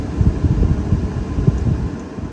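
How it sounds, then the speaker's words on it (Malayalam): Blower fan in a Tata Punch automatic with the AC compressor off, pushing a steady, close rush of air with a low rumble and no talking. "ഇപ്പൊ AC ഓഫാണ്. കാറ്റ് മാത്രമേ ഉള്ളൂ. ഇപ്പൊ ഫാൻ മാത്രമാണ് വർക്ക് ചെയ്യുന്നത്."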